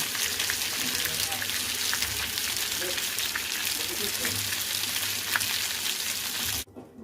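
Lamb chops fry in a pan with a dense, even hiss of sizzling fat, close and constant, then drop off abruptly near the end.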